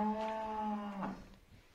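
A calf or cow at a livestock sale gives one drawn-out moo, close and fairly clear, tapering off after about a second with faint background noise.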